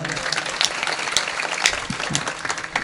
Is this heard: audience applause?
yes